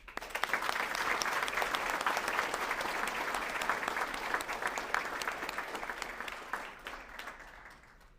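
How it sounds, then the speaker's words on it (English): A crowd at a US Army retirement ceremony at Fort Polk gives sustained applause for the retirees, dense steady clapping at moderate distance that gradually fades toward the end. "give our retirees another round of applause"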